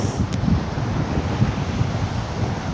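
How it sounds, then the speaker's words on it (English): Strong wind buffets the microphone on Great Yarmouth beach by the sea, a loud, steady roar with low gusting rumble and surf beneath, no voices. "the wind, that's definitely how windy it is."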